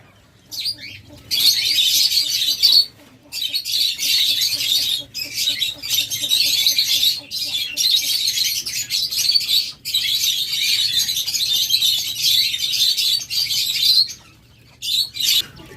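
Caged lovebirds at a bird seller's, a dense flock chirping and squawking in bursts that almost fill the clip with brief gaps, loud and close, with a low hum underneath.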